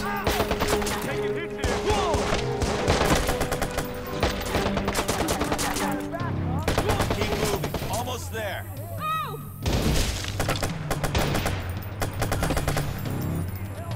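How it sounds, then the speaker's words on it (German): Rapid AK assault rifle bursts in the video game Watch Dogs, loud and dense, with steady repeating shots running through the whole stretch over a busy game soundtrack. "Das ist meine AK."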